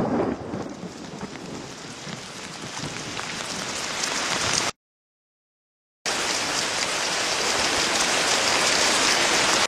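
Steady heavy rain hisses and patters on surfaces, loud and close, with a short complete dropout partway through before the downpour resumes.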